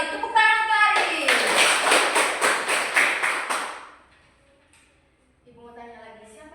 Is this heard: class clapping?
yes